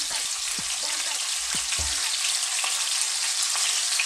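Scallops pan-frying very fast on high heat, a loud, even sizzle that fills the whole clip, with a few soft stirring knocks near the start.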